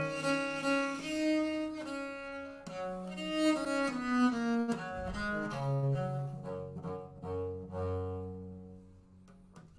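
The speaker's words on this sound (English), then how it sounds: "That's that first line of this jig by Tobias Hume, written in tab." A baroque viola da gamba plays the opening line of a jig by Tobias Hume, bowed and plucked-sounding chords with rich resonant tones, solo and close, moving in a lilting rhythm before a final sustained low note.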